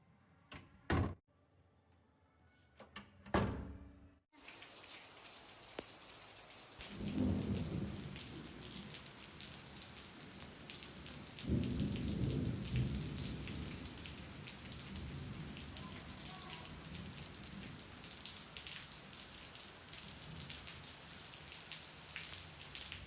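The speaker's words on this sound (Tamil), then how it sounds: "பெய்யுற மழையும் வானத்தையும் பார்த்தா இப்போதைக்கு வெறிக்கிற மாதிரி இல்ல" Heavy rain pours steadily on a rainy day, with deep rolls of thunder rumbling through the downpour in several swells; a few sharp knocks sound at the start before the rain settles into a continuous hiss.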